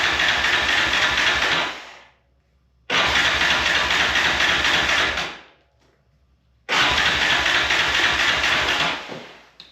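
A 2001 Yamaha Raptor 660R ATV engine in poor condition fires up and runs loud and close in three long bursts, each dying away into near silence before the next start.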